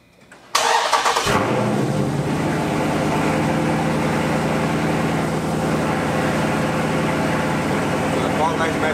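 A Mopar car engine cranks briefly and catches, then settles into a loud, steady idle that runs on continuously close to the microphone.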